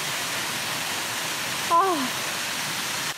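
A jungle waterfall blocking a stream, heard as a steady, broad hiss of falling water throughout, with a brief spoken word partway through.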